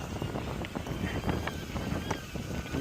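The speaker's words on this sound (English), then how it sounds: "The wind is stronger up here." Strong wind blows across a hilltop on the Downs, a loud, close buffeting roar that gusts unevenly and rumbles low throughout, with faint talk beneath.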